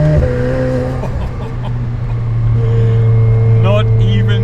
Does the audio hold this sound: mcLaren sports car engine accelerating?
yes